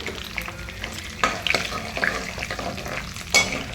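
Roasted gram dal (putnala pappu) frying in a pan, a continuous close sizzle with occasional scraping stir strokes and light clinks, no talking.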